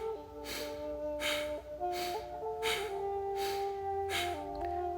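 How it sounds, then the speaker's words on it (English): Rapid, forceful nasal exhalations of a fire breathing exercise pulse in a regular rhythm, about six close bursts, over sustained soft instrumental music. "Breathing only through your nose."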